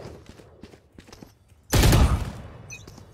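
Gunfire in the video game Valorant, one loud burst of rapid shots lasting about half a second, heard close over quieter game sounds.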